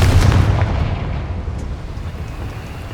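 A Confringo fire spell blasts in Hogwarts Legacy with a loud, deep booming burst right at the start. Its rumble rolls on and slowly fades over a few seconds, with no voices.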